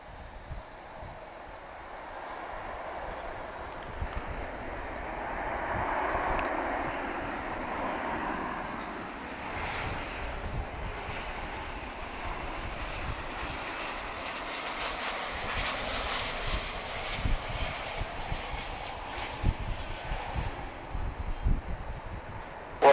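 An airplane takes off at Dallas/Fort Worth Airport, a broad roaring rumble that swells and fades at a distance, with wind noise throughout.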